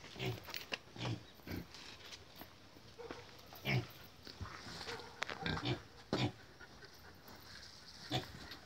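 Farm pigs grunt and snuffle nearby as they are fed fallen papaya, a series of irregular short grunts and snorts over outdoor background noise.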